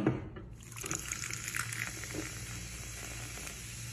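Mozzarella balls coated in corn flakes frying in hot oil, a bubbling sizzle with small crackles and pops, close and steady throughout with no talking.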